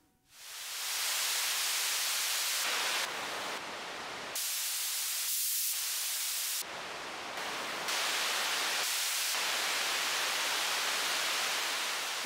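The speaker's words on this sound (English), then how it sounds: "Quite like that grey noise, it's quite strong" Grey noise from the noise source of a Minifreak or Hydrasynth synthesizer, a loud, steady, full-band hiss that swells in over the first second and then shifts in tone and level in blocky steps as it runs on alone.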